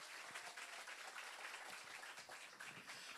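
An audience at a religious gathering gives a faint, steady round of applause for Mother Suelaine, the clapping even and distant from start to finish.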